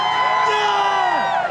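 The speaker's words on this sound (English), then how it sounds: "Rainbow crowd trying to recharge this offense." A college football stadium crowd cheers in one loud, sustained roar with whoops rising above it, filling the whole moment with no break.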